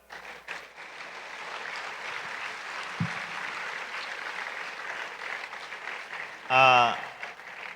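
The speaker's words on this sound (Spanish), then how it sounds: "démosle un fuerte aplauso" Audience applause following a conference by a bishop in a Spanish-speaking hall, moderate steady clapping from the crowd lasting several seconds, with a short louder sound near the end.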